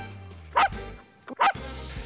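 A dog gives two sharp, loud barks about a second apart, close by, with a low background hum between them.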